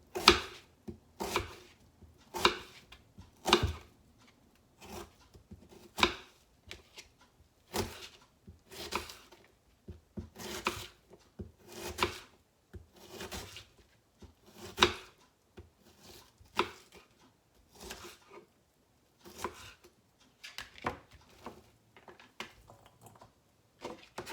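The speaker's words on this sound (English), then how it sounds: "Slice red onion here, about half a cup." A knife slices through red onion on a cutting board in a long series of crisp, evenly spaced chops, close and distinct against a quiet background, with brief pauses between runs.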